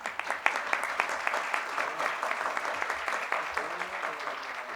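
Applause for professor Zé Geraldo breaks out at the closing ceremony of a law gathering: a steady crowd clapping with sharp individual claps and some voices mixed in.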